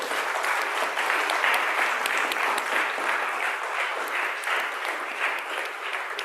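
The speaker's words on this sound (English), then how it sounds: "All right, then another round of applause." A church congregation applauds during a service, dense sustained clapping from many hands that holds steady and fairly loud for the whole stretch before easing slightly at the end.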